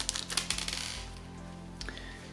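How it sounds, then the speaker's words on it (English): Small metal screws rattle and clink inside a bag as it is opened, giving a quick cluster of bright clicks near the start and a few more later, close and fairly quiet over a faint steady hum. "Yep, that's the sound of screws"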